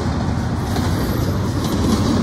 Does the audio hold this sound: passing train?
yes